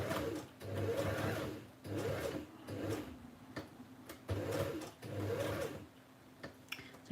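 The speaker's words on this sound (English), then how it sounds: "Big W sell sewing machines" A sewing machine bought at Big W stitches roughly around the edges of a postcard, running in repeated bursts of steady whirring with short pauses between, close and moderately loud with no voices.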